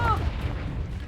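In the Hogwarts Legacy video game, a Confringo spell lands with a short, deep booming blast that rumbles briefly, with voices in the background.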